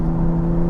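Steady engine drone from an Aston Martin Vanquish grand tourer under acceleration, a loud, close, even hum with a strong low tone held through the whole brief moment, alone without voices.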